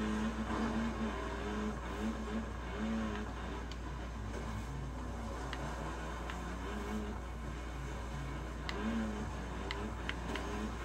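A car engine runs steadily in Forza Horizon 3 on the snowy Blizzard level. The drone is moderately faint and shifts in pitch as the car is pushed hard, with occasional sharp clicks and knocks over it.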